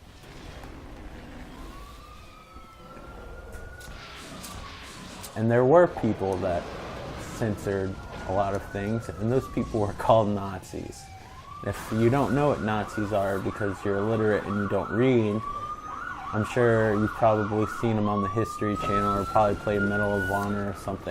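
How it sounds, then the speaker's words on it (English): A passing emergency siren wails in slow rising-and-falling sweeps in the background, repeating throughout beneath a man's continuous close-up talk. "I apologize for that siren."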